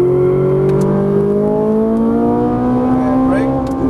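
Ferrari 458 Italia race car accelerating on a track, a loud sustained engine whine whose tone climbs steadily through the revs, heard close from inside with a faint ticking near the end.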